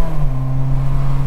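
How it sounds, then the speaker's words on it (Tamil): A new car's engine and exhaust hold a steady, close droning note as the gearbox drops into first gear, a short, loud, even hum. "இப்போ ஃபர்ஸ்ட் கியர் விழுந்துருச்சு பாருங்க"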